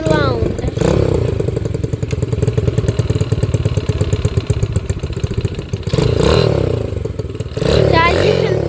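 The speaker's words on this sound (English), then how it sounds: "But the motorcycle for me is the loudest one out of all of them." A loud kickstarted motorcycle engine runs close by, idling with a rapid clattering rhythm and a couple of revs near the start and end, while a young voice talks over it.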